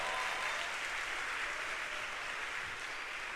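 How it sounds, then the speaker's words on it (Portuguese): A church congregation applauds during a Brazilian evangelical service, a dense even wash of clapping held steady at moderate level throughout. "Será que você pode aplaudir ao Senhor?"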